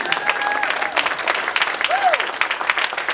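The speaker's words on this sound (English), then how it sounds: "One more round of applause, please." An audience at a high school jazz festival applauds with a steady wash of clapping and crowd noise, fairly loud, with brief whistle-like tones rising over it.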